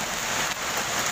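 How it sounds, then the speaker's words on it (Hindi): Dense hailstones pelting down in a Delhi hailstorm, a continuous loud hiss of impacts like heavy rain on hard surfaces, steady throughout with no voices. "ये देखिए आप ओले किस तरह से पड़ रहे हैं"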